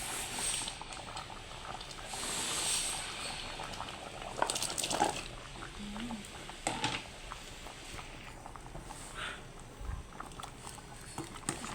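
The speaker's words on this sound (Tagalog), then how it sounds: "pakuluin lang muna natin ng lumambot konti yung kalabasa" Mung bean soup with squash in a pot bubbles softly at a low, steady simmer with faint patter of boiling liquid and a few scattered kitchen knocks.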